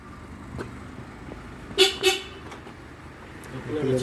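A car's keyless entry warning gives two short, sharp chirps in quick succession outdoors, loud against quiet background rumble, with faint distant traffic around.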